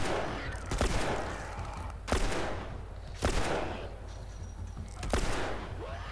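Gunfire in the video game The Last of Us: four loud, sharp shots spaced about a second apart, each with a reverberant tail, over a steady low rumble of background noise.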